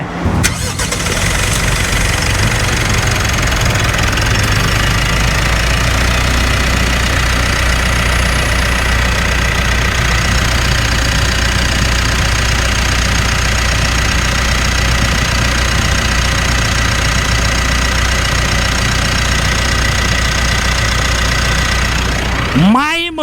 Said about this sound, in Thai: ฟังเสียงเครื่องยนต์กันไป